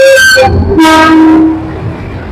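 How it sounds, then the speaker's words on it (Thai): A loud train horn sounds in two long blasts as a train rumbles close by beside a market along the Khlong Tan railway, the roar fading slightly toward the end. "โอ้ รถไฟมาพอดีครับผม"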